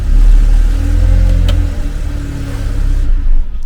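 A BMW G20 car's engine running, a loud steady low rumble heard close up, with a brief sharp click partway through and a slight drop in level toward the end.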